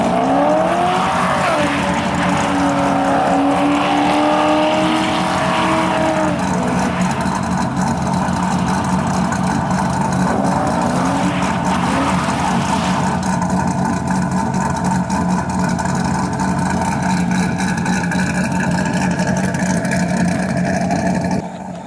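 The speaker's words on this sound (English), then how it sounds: "And he decides he's gonna do some damn donuts." Corvette doing donuts at a drag strip, a loud continuous engine roar with wavering revs and sustained tire squeal, close and unbroken throughout.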